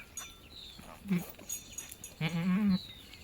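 A goat with newborn kids just after delivery bleats twice, a short call followed by a longer wavering one, close and clear over a quiet background.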